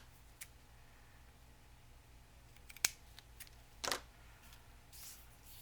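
Scissors snip off paper trim while making vintage book-page bellybands, with a few faint, isolated close cuts and rustles separated by near-silence.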